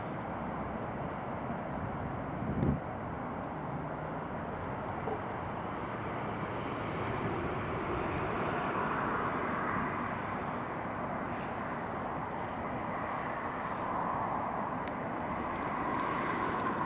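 A TUI airliner takes off at Newcastle International Airport, giving a continuous broad engine roar that builds slightly and holds steady throughout, heard from a distance.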